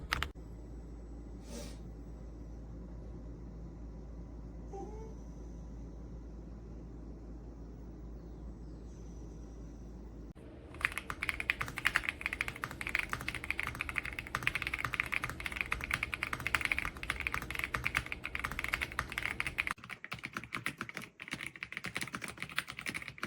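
Typing on an RK Royal Kludge R65 wired mechanical keyboard, a quiet hum first, then a fast continuous stream of clacky keystrokes, close and moderately loud, continuing to the end.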